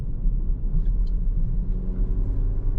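A 2026 Volkswagen Tayron R Line seven-seater engine under way, heard as a steady low rumble with road and cabin noise, continuous and fairly loud, with no talk.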